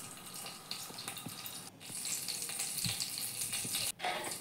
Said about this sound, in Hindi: अब एक पैन में ऑयल गरम करके हम वापस क्यूमिन सीड्स और हींग का तड़का डालेंगे